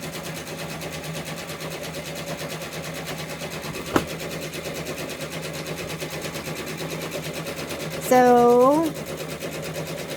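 An OESD multi-needle embroidery machine stitches at a steady rapid rhythm, with one sharp click partway through and a brief rising whir near the end; a single word is spoken.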